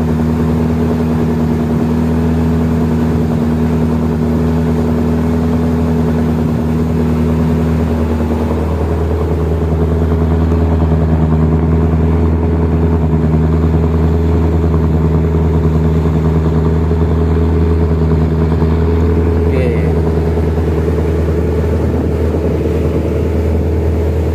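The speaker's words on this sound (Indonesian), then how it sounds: "Oh ya, suara mesinnya." A motor jukung car-ferry pontoon of about 30 tons runs its engine in a loud, steady, droning hum with a constant low throb, lasting without pause and with no talking.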